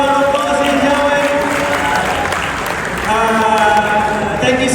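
Crowd applause at a Hot Wheels event in Malaysia, a loud, continuous clatter of clapping mixed with cheering and talking voices, with sustained tonal sound running through most of the span.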